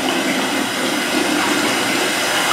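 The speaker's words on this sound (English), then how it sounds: "I'm going to add a little bit of cool water in there." Cool water pours steadily into a cat's bathwater, a continuous close, even splashing rush with no voices over it.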